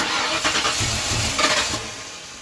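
Engine of a 1994 Vert car cranking and nearly catching, a rough, loud churning with a couple of uneven surges that fade toward the end, no talking.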